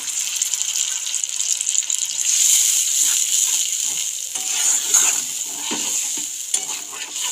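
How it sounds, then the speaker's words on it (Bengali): Ground poppy seed paste with cumin, green chili and a splash of water fries over low heat in a pan while being stirred, a close steady sizzle broken by scraping strokes of the spoon. "আঁচটাকে কমিয়ে রেখে পোস্তটাকে খুব ভালোভাবে নাড়াচাড়া করে নিলাম।"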